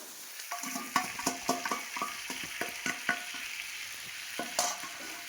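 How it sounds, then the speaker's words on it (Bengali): Pointed gourd, potato and shrimp frying together in a pan, with steady sizzling under repeated scraping and clacking of a spatula stirring against the pan at an uneven rhythm, and no talking. "এটার সঙ্গে আবার ভাজতে থাকবো আমি চিংড়িটা ওর মধ্যে অ্যাড করে দেবো"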